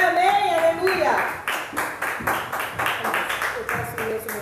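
A church congregation claps in a steady, rhythmic beat, the claps close and loud, after a voice speaks at the start and with voices heard under the clapping.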